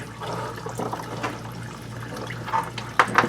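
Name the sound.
Ford F-350 transmission fluid draining into drain pan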